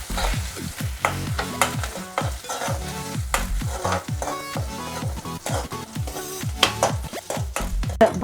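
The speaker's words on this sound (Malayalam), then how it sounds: "വെളുത്തുള്ളി, ഇഞ്ചി, കറിവേപ്പില, പച്ചമുളക് ഇട്ട് ഒന്ന് പച്ചമണം മാറുന്നത് വരെ, വെളുത്തുള്ളിയുടെ പച്ചമണം മാറുന്നത് വരെ ഒന്ന് വഴറ്റിയെടുക്കുക" Garlic, ginger, curry leaves and green chillies sauté in a pan for a puff filling, with a steady sizzle under quick, repeated stirring scrapes that stay close and fairly loud throughout, with no talking.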